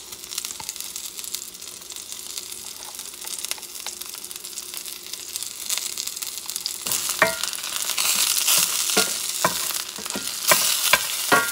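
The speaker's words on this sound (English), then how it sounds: "I'm just going to sauté them." Food sautéing in a pan a couple of notches below medium heat for an egg and spinach keto sandwich: a steady soft sizzle that jumps louder partway through, with crisp spatula stirs and scrapes close by.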